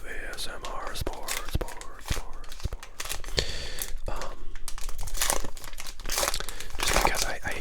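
A 2018 Topps Heritage baseball card pack wrapper crinkled and torn open up close, sharp crackling bursts and rustles throughout, with whispering over the top.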